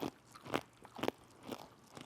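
Biting and chewing crunchy peanut brittle candy, four or five quiet, close, crisp crunches spaced evenly apart with no talk.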